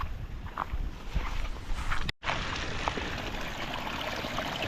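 Irrigation water flows into a rice paddy in an outdoor field, a broad rushing hiss with faint trickles, briefly cut out by a short dropout midway.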